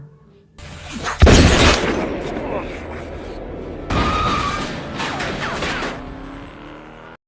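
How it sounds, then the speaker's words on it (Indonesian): Two sharp, loud gunshot-like blasts ring out a few seconds apart, each followed by a trailing rumble and echo. "Tapi Jane membalasnya dengan tembakan mengenai lehernya."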